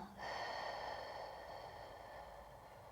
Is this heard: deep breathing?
yes